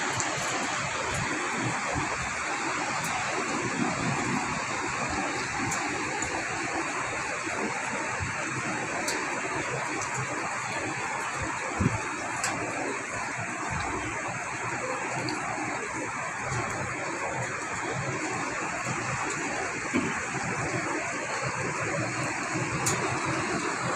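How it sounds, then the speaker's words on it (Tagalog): Heavy rain pours down in a dense, constant roar, with occasional louder drips and thuds cutting through the steady wash. "Ulan siyang malakas."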